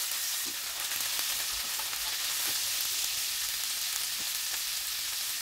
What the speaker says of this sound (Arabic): مثل ما تشوفون انا ما اريده يتحمر، مجرد يذب الدهن مالته